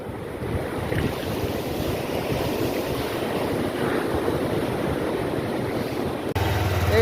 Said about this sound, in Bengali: এই ঢেউয়ে গোসল না করলে টের পাওয়া যাবে না